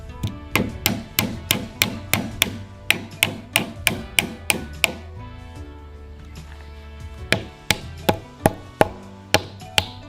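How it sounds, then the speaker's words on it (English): Hammer driving worn trim nails back into an exterior post: a steady run of sharp, close blows in quick rhythm, a short pause, then a few more strikes. "it's okay to drive those nails actually back in."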